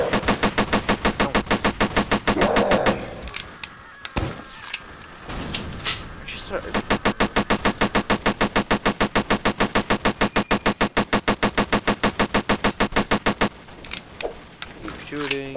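Rapid automatic gunfire from a video game rattles in long, evenly spaced bursts, loud and sustained, breaking briefly near the start before resuming steadily.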